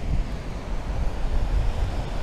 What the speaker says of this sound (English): There it is, the ocean.